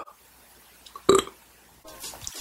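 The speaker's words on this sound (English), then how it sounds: "Still burps in there." A single loud burp after drinking a 2-liter bottle of Diet Coke, short and close, set between quiet breathing and soft rustling.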